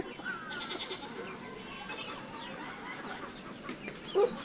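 A domestic chick of an unusual colour gives faint, scattered high peeps against quiet farmyard background, with one brief louder sound near the end and no talking.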